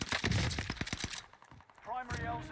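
NZ41 rifle gunfire in Warzone, a rapid burst of sharp shots in quick succession, followed by quieter game sounds and a brief voice.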